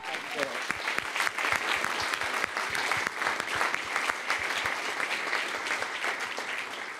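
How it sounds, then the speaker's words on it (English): A room full of people gives sustained applause for the Rosetta mission's flight dynamics team at a comet-landing media briefing, dense steady clapping throughout with some voices mixed in. "so let's give them an extra applause"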